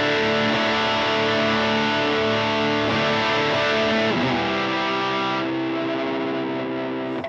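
Distorted electric guitar lead tone through a Shigeharu pedal, sustained chords ringing loud and full, then shifting to a new chord near the end before cutting off, with no voice.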